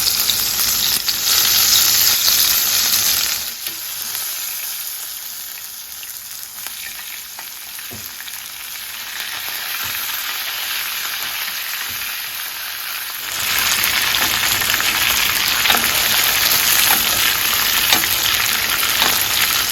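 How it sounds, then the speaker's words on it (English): Steak frying in a pan with garlic butter, fresh garlic, thyme and rosemary gives a loud, steady sizzle and crackle that dips briefly midway, with no voices over it. "Now I'm going to add some garlic butter. Going to add some fresh garlic, some fresh thyme, and fresh rosemary."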